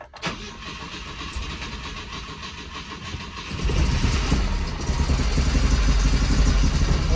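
A 1971 Volvo 142 engine cranks and catches at about the 3.5-second mark, then settles into a loud, steady, rumbling idle close to the listener, with no talking.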